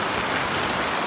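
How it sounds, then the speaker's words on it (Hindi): Heavy rain pours in a dense, steady hiss with no breaks, close and enveloping. "बारिश बहुत तेज है"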